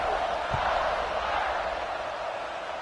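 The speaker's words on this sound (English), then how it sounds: "this crowd is buzzing after that last score" Notre Dame football stadium crowd buzzing after a touchdown, a loud, dense wash of many voices filling the space evenly, with a broadcast commentator talking over it.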